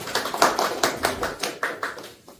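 Hand clapping from a small audience welcoming a guest at a Korean talk event about the 1919 Gwangmyeong independence movement; uneven, rhythmic claps in quick bursts, close and moderately loud, fading out at the end.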